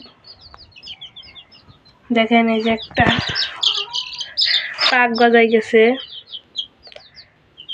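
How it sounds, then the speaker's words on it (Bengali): Sonali chickens clucking and squawking up close, several loud bursts of calls with smaller chirps between them, while someone talks over the flock. "সো গাইজ দেখেন আমাদের সোনালী মুরগি"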